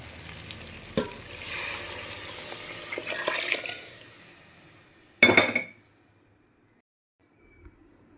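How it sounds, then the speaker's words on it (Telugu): Spice tempering for a cucumber and okra sambar sizzles in hot oil with a steady crackle, broken by a few clinks of a spoon or pan. A brief loud burst of sizzling comes near the end before the sound cuts to near silence. "ఇప్పుడు మనము తాలింపులే వేసేసుకున్నాం"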